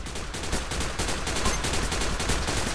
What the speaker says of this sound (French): j'ai shooté quelqu'un au loin avec mon flingue